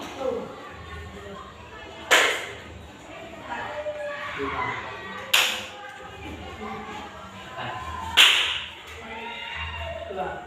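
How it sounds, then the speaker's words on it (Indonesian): Students in a classroom clap a 3-6-9 pattern, three sharp, loud group claps spaced about three seconds apart, with the background murmur of the room between them. "3, 6, 9 tepuk tangan kamu."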